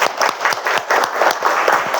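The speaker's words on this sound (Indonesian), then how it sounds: "Kita tepuk tangan dulu." A classroom group claps together after a lesson, a dense burst of applause with quick close hand claps throughout.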